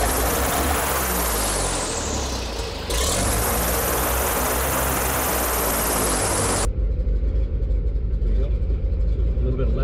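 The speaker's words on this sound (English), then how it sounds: "Engine start. Time to go flying." A Cessna 185 light aircraft engine starts, roaring up with a whining propeller drone, then shifts abruptly to a lower, throbbing idle close by.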